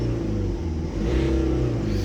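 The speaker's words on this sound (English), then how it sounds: "let's give it a very quick rev" A 2009 BMW 320d diesel convertible with the top down, its engine revving once from idle to a higher pitch and settling back, steady and close, with no talk.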